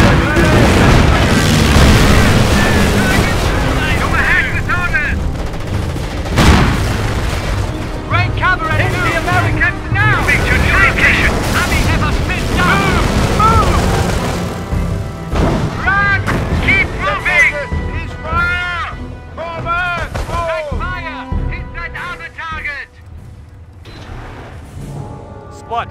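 Booming artillery and scattered gunfire from a Company of Heroes skirmish between Panzer Elite and US forces on Langres, heavy blasts and pops recurring throughout, with voices speaking intermittently amid the battle noise.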